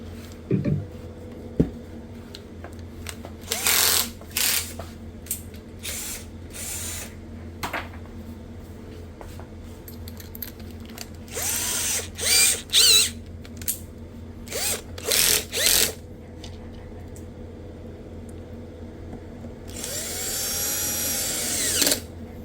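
Power screwdriver driving screws into a Marshall Kilburn 2 portable speaker being repaired after water damage, with several short whirring bursts separated by pauses and one longer burst near the end, close and moderately loud.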